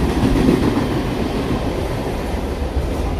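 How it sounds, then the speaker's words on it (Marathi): A fast AC local train in Mumbai runs past with a continuous low rumble and rattling wheel noise, loud and close, holding steady without pause. "हे AC लोकल गाडी आहे"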